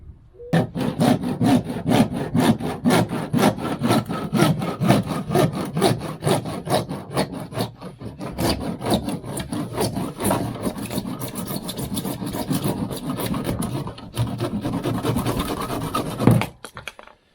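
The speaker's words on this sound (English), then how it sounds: "So I'm going to do it with a handsaw." Handsaw cutting through plastic pipe for a koi pond gravity-fed filter conversion, a steady run of rapid rasping back-and-forth strokes, loud and close, continuing without pause for about sixteen seconds before stopping.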